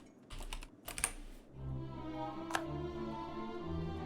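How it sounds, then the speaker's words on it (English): Rapid clattering keystrokes on a computer keyboard, bursts of quick taps over a low steady hum, close and moderately quiet, with a sharper isolated click partway through. "So much typing, my hands hurt."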